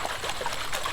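Water sloshes and swirls in a pyramid gold pan, a brief continuous watery trickle heard close up.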